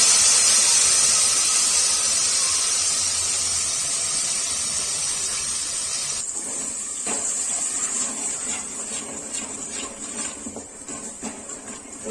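Gravy poured into a hot tempering of crackling garlic and curry leaves for panchratna dal gives a loud, steady hiss that eases slightly, with scattered small pops and crackles later on.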